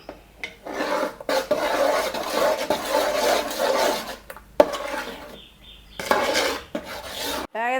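Ghee melting in a large pot is stirred steadily by hand, giving a continuous scraping, rasping rub against the pot for several seconds, with short pauses and a sharper knock partway through.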